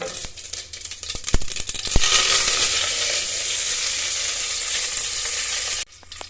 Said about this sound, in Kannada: ಸಾಸಿವೆ ಹಾಕ್ತಾಯಿದ್ದೀನಿ ಮತ್ತು ಕರಿಬೇವಿನ ಸೊಪ್ಪು ಹಾಕ್ತಾಯಿದ್ದೀನಿ